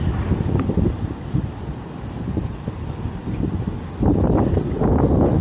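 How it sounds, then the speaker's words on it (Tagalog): Strong wind gusts in South Korea buffet the microphone as a steady, rough roar that rises noticeably louder near the end, with no voices. "Malakas ang hangin, parang uulan yata."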